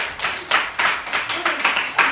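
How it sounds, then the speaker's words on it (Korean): A handful of students clap in a high school physics classroom, a rhythmic series of about seven loud, close clap bursts in quick succession. "박수."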